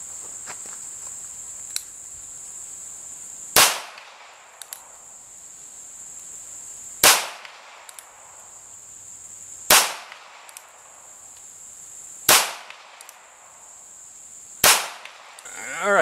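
A North American Arms .22 Magnum mini revolver fires five sharp, loud cracks a few seconds apart outdoors, with a steady high insect chirp droning in the background between shots.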